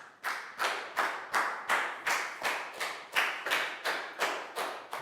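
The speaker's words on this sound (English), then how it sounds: "big round of applause for Nadia." Steady rhythmic hand clapping in a primary school classroom, about a dozen sharp claps in even time, fairly close, with no talking.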